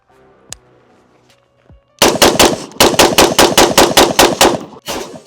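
AR-15 rifle emptied in rapid fire, a loud run of about a dozen evenly spaced sharp shots, preceded by quiet handling clicks.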